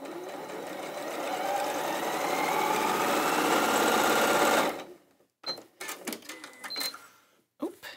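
Domestic sewing machine stitching a seam on a Moda Kimono quilt, a fast, even mechanical whir running steadily for several seconds, then stopping abruptly, leaving a few scattered clicks and knocks.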